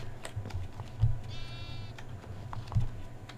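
Sheep bleating in Minecraft during a multiplayer minigame, one short wavering bleat amid soft clicking of keys and faint background noise.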